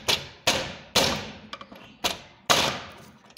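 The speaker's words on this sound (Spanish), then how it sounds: "con un desarmador ponemos nuestra tapa en algo plano para darle un golpe" An engine valve cover from a Dodge/Jeep/Chrysler 3.6 engine is knocked against a flat surface with a screwdriver: five or six sharp, loud metallic thumps at roughly half-second intervals, each ringing briefly, close up with no talk.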